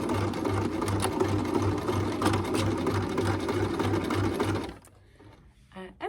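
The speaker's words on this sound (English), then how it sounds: "we're going to aim the needle for this sort of seam area here, so stitching in the ditch in order to catch the bias binding on the back there" A sewing machine stitches in the ditch along a seam to catch bias binding on a jerkin, running as a steady rapid close mechanical whir for several seconds before it stops, with a few faint handling sounds after.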